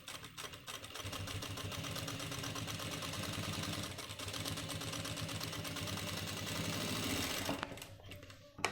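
Sewing machine stitching a pant pocket, a rapid, steady mechanical whirr and clatter running continuously for several seconds, close and clear, then slowing and stopping at the end.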